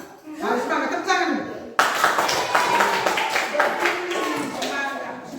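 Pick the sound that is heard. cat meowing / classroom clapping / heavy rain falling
classroom clapping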